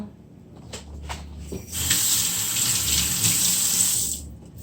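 Tap water runs into a sink as pimento seeds are rinsed by hand for Jamaican curried goat, starting with a few soft knocks, then a steady close gush lasting a few seconds before it fades out.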